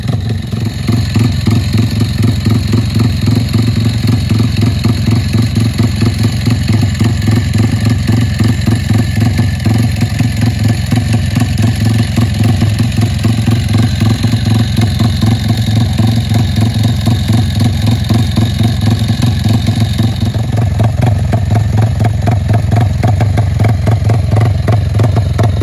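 Yamaha Y15 motorcycle with a titanium exhaust and dry clutch, its engine running loud and close for the whole stretch, a steady clattering idle broken by blips of revving.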